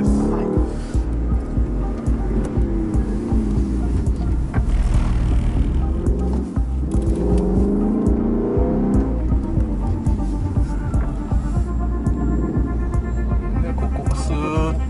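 A heavy car on a gymkhana course gives a continuous throbbing engine hum with fluctuating revs, close and loud throughout, with faint voices underneath.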